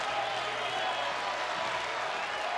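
A college baseball crowd roars at a Texas vs Tarleton State game, a steady, dense wash of cheering and clapping heard at a distance throughout.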